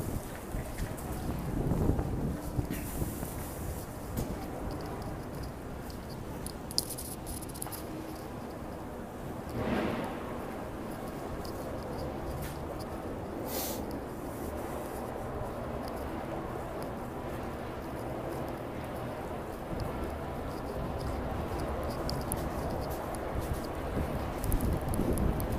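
Gusty wind buffets the microphone throughout a New York blizzard with below-freezing temperatures, a steady roaring rush with stronger gusts rising and falling, loud and close, with no talking.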